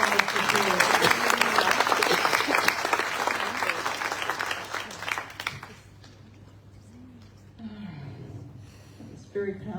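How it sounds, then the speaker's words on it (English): Audience applause at an evening panel discussion on Jewish identities and political ideologies, steady dense clapping from a room of listeners for several seconds before thinning out, with a voice speaking near the end. "If you could please give you a big round of applause."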